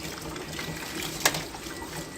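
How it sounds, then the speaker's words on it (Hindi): A paint roller is rinsed under running water from a tap, a steady close trickle and splash with one brief sharp spike partway through. "रोलर को बहते हुए पानी के अंदर आपको रखना है"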